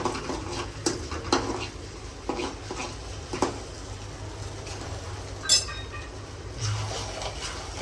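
Cumin seeds and curry leaves stirred in hot oil while tempering for Kathiyawadi-style dahi tikhari, with a steady low sizzle, scraping spoon strokes and occasional clinks of metal against the pan.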